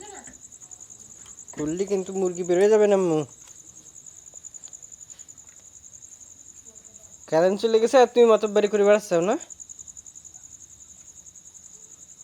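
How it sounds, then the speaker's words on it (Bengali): Crickets chirp in one steady, high, unbroken trill on a quiet village night during a power cut, while a person talks in two short stretches over it. "ঝিঝি পোকার ডাক শোনা যাচ্ছে শুধু"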